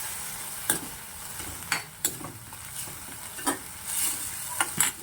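Green chilli chutney cooks in a pan over a high-to-medium flame, giving a steady soft sizzle broken by several brief scraping stirs, close by with no voices.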